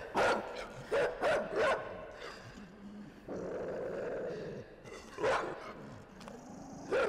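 A dog in the video game INSIDE gives a series of close, loud barks, several quick ones and then a lone bark later, with a low growl and murky ambient noise in between.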